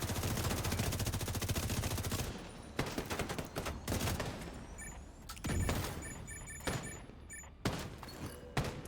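Video-game combat with a rocket launcher and gunfire: bursts of rapid automatic fire, then scattered heavy shots and thuds with brief beeping tones, loud and close, and no talking.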